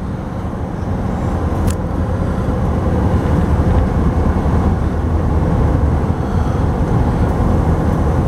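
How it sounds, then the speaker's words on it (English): A 1997 Roadtrek 190 Class B camper van climbing a steep hill at about 60 mph, giving a steady, loud low engine and road drone inside the cab with no voices. "going up this steep hill, I'm doing 60 miles an hour just like that."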